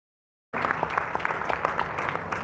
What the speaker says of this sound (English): Let's put our hands together and give a round of applause